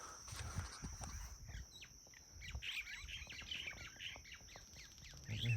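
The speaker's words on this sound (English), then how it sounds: "So those are minor birds." Myna birds call in a bamboo forest on a Maui hiking trail, a busy mix of chirps and squawks at moderate distance over a steady high insect-like hum and faint rustling outdoors.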